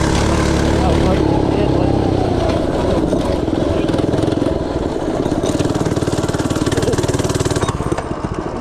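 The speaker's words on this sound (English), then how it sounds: "This thing just idles like a Cadillac." A FRP GMB 100 retro mini bike's small engine idles steadily up close with a continuous, even putter throughout, with a voice talking over it.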